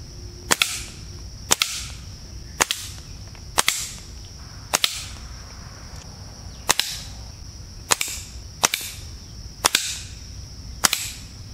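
Gunshots at two survival knives from about five to ten metres: roughly eleven sharp, evenly spaced cracks, each with a brief metallic ring, over a quiet background without speech.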